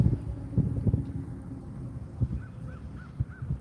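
Gusty wind buffets the microphone in low rumbling bursts, while a crow caws a few times in the background.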